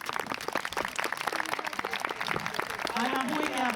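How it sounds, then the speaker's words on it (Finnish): Spectators at an IPO obedience dog trial clap for the field staff in a lively, close patter of applause, with voices talking over it. "lämmin kiitos ja aplodit kenttähenkilökunnalle"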